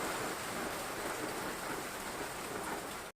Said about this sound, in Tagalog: pinapakita ko lang sa inyo na umuulan ng yelo ngayon